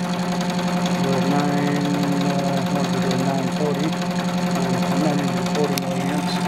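A homemade pulse motor drives a three-phase coil output, giving off a steady, fast mechanical hum and buzz that runs evenly throughout, with someone talking over it.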